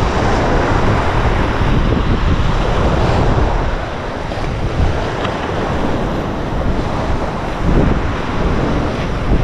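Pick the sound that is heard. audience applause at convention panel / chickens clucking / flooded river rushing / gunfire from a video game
flooded river rushing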